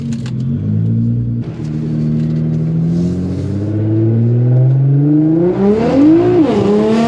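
A full bolt-on Nissan GTR accelerates hard at close to 200 mph, engine note climbing steadily through a gear with a loud, continuous rising drone and a brief shift dip near the end, heard from inside the car.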